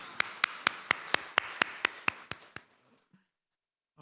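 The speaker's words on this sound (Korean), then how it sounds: "와, 박수 한번." An audience claps in unison: about a dozen crisp, evenly spaced claps in a steady rhythm that gradually soften and trail off into silence, with no talk over them.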